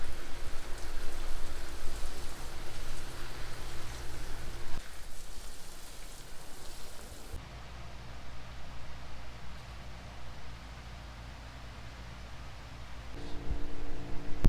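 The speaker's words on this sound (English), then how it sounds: "It has not stopped raining all day." Steady rain pours down outdoors on a wet, all-day drizzle, a loud even hiss of drops on surfaces that drops slightly in intensity midway and continues without pause.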